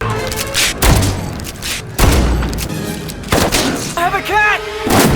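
Several sharp gunshots crack out during a short-film fight scene in which an elderly woman takes down armed intruders one by one, the shots spaced irregularly with booming, loud impacts.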